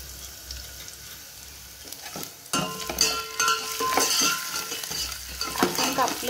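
Crushed green chillies go into hot tempering oil for dal and start a sudden, loud sizzle with busy spatula stirring close by. Quieter kitchen sounds come before the burst.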